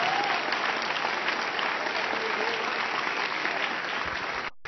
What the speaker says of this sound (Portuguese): aplauda bem forte a Jesus